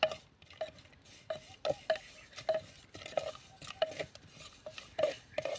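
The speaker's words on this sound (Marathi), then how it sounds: "आता यामध्येच आपण थोडेसे खोबऱ्याचे तुकडे थोडेसे भाजून घेऊया।" Dried coconut pieces being stirred and roasted in a pan with onion and niger seeds, a spoon scraping and tapping the metal in a steady series of close, sharp clinks.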